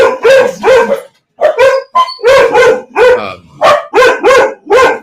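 A dog barks in loud, close bursts, several rapid barks in a row with short pauses between them.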